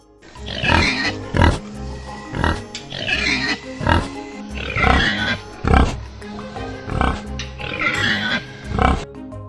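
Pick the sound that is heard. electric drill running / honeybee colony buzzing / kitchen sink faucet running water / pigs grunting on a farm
pigs grunting on a farm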